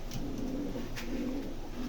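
Pigeons cooing faintly and steadily at a pigeon market, low repeated coos sitting under a constant hiss and broadband background noise.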